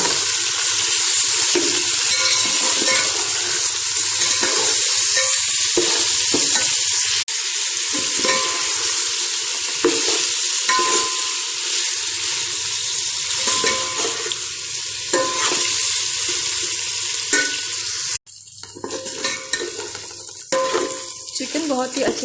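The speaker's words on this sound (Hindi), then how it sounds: "अब इसके अंदर मैं शामिल कर दूंगी चिकन और अब आपने इसे अगेन फ्राई करना है डार्क ब्राउन होने तक।" Chicken pieces frying with golden onions in a pan for a pulao, a loud continuous sizzle with occasional stirring scrapes, dropping briefly near the end before the sizzle resumes.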